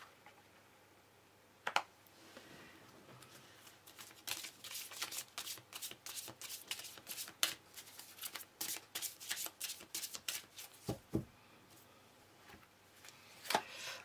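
Tarot cards being shuffled and drawn, heard as a long run of quick, close papery riffles and flicks that start sparse and grow into a steady, dense patter.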